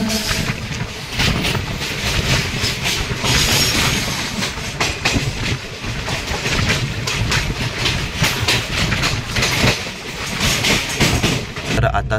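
The Mangalore Express runs loudly on the rails, heard from on board, with continuous rumbling and rhythmic clickety-clack of the wheels throughout.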